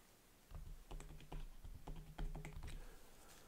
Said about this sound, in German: Schlagworte mit der Tastatur eingegeben werden